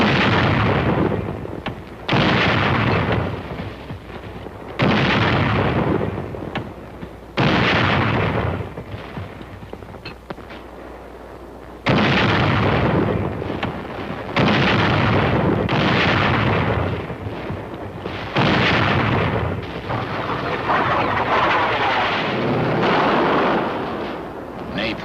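Artillery barrage in archival Korean War footage, heavy booming blasts in repeated bursts roughly every few seconds, loud and rumbling, with a continuous roar between the impacts.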